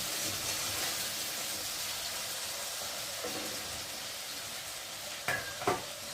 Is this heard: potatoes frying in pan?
yes